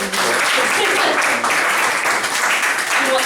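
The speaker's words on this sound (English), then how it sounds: "So everybody clap up Joy." A live audience at a Spoken Woods poetry event claps steadily and fairly loudly as a performer is welcomed to the stage, a dense, continuous round of applause with no other sounds standing out.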